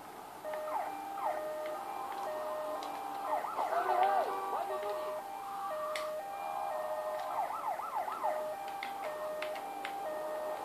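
Ambulance and police sirens from the video game GTA Vice City wail in repeated rising and falling sweeps, moderately loud and continuous over steady game background noise.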